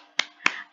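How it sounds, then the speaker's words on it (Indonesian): Two sharp, separate claps, like finger snaps, sound close and clear about a quarter second apart as part of a rhythmic clapping chant for a children's Quran lesson. "ikuti ya tepuk identitas surat Al-Fatihah ini"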